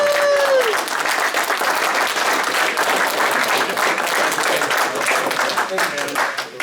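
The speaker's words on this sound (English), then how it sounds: "could I get a round of applause for Dan for his outstanding effort?" Steady, dense applause from an audience at a club meeting, many hands clapping together at close range for several seconds, with voices calling out over it.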